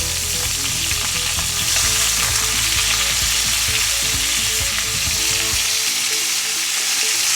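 Pork shoulder browning in a pan gives a loud, dense, continuous sizzle with crackling spatter and faint low pops throughout, close and without any talking.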